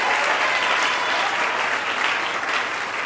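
A church congregation at a Sunday service applauds loudly and continuously, a dense, even wash of clapping from many hands that fills the room without pause.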